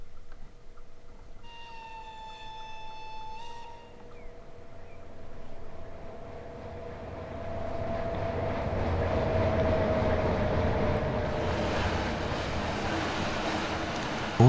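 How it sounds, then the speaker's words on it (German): An ÖBB 1189 Krokodil electric locomotive rolling on the Semmering railway in Train Simulator Classic, with a brief tonal whine early on and then a swelling rumble of wheels and track that grows louder and steadier. "wir lassen den Zug jetzt schön rollen, auch wenn wir 80 fahren dürften"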